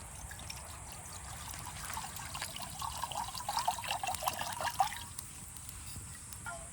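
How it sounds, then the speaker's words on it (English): Water trickles and dribbles steadily into a bottle outdoors during a survival challenge, a soft continuous liquid flow that grows a little louder and splashier toward the end, with no talking. "Now we're gonna get some water."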